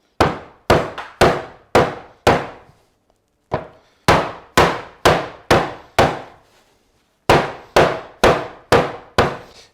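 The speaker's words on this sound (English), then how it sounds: "take a rolling pin and give the dough a few good whacks, just to make it more malleable" A French rolling pin beats chilled tart dough in three quick sets of sharp, heavy thuds, about five blows each with short pauses between, close and loud, with no talking.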